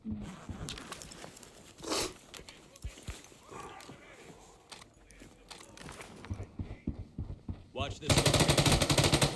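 An AUG rifle firing 5.56 rounds in the shooter game Arena Breakout cracks in sharp, close bursts, with a loud rapid volley at the end, while someone talks between the shots.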